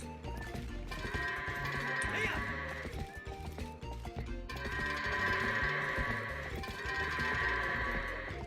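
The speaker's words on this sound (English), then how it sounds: "The goats are the best part of the game." Goats in The Legend of Zelda: Twilight Princess bleat again and again over the game's background sounds and music. The calls are clear and repeated, with a possible clatter of hooves among them.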